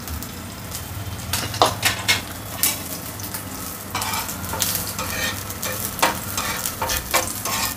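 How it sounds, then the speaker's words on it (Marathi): Crushed garlic fries in hot oil in a pan for a fish curry, a steady sizzle broken by a series of sharp utensil scrapes and clinks as it is stirred, fairly close and with no voices. "लसूण चांगला असा लालसर करून घ्यायचा."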